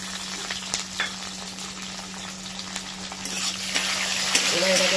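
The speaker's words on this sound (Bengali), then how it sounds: "এবার এটাকে ভালো করে ভেজে নিতে হবে।" Large prawns fry with chopped onion in a pan for a cabbage and prawn dish, giving a steady close sizzle and hiss with a low constant hum underneath.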